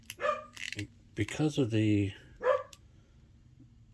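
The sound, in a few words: dog barking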